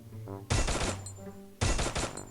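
Gunfire in a shooter video game comes in two sharp, loud bursts of rapid shots, each lasting about half a second, with a brief quieter gap between them.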